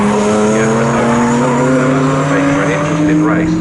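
ASCAR stock-style race cars lap Snetterton circuit with loud, sustained engine roar and shifting pitch as cars pass close by, tyres squealing faintly, over a continuous motorsport din.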